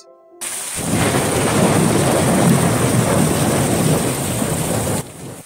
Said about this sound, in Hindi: आज हमारे यहाँ पे बहुत ही जोर से बारिश आया